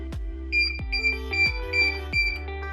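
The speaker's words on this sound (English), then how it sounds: "this machine is just beeping 5 times just as a reminder" A heat press beeps in a regular series of five short electronic tones signaling it has reached temperature, moderately loud, while lower thumps sound at each beep.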